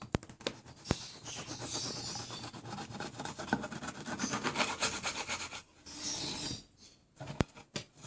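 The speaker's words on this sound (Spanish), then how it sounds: "ahorita vamos a cortar nuestro pan para que vean cómo quedó" A knife saws back and forth through a loaf of homemade sandwich bread, a close, steady rasping scrape with brief pauses and a few sharp clicks, with no talking.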